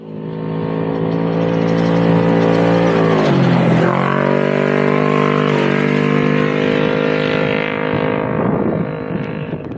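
An off-road race car on a desert course at the VORRA Stomping Grounds 300 in Yerington, Nevada, its engine roaring loud and close as it passes, the pitch dropping sharply midway, then fading as it pulls away.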